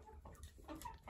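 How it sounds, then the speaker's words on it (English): Farm hens and a rooster give a quick run of soft, overlapping clucks, faint but near, with no voices over them. "I like this rooster."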